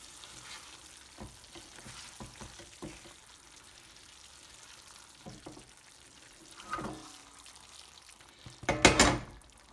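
Onions, tomato and green chilli fry and get stirred in a pan for a chicken masala, soft sizzling with scattered scraping stirs, building to a louder burst of spoon-on-pan clatter near the end.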